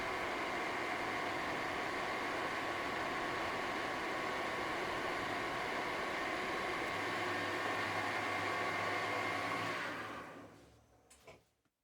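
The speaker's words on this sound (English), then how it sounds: "Brass, an easy cutting material, cut with a super sharp polished carbide tool at a very small depth of cut and a slow feed." A metal lathe takes a very light, slow-feed finishing cut on brass with a sharp polished carbide tool, giving a steady, even mechanical drone with a faint hum that winds down and stops near the end.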